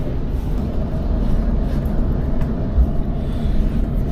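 Low, steady rumble of a moving train in Sydney, Australia, heard from inside with a constant droning hum and no talk.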